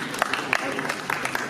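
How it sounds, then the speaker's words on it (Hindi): Scattered clapping from an audience at a press conference for a comedy show, light and uneven with a few sharp claps standing out over a murmur of voices. "तो जोरदार खुद ही ताली।"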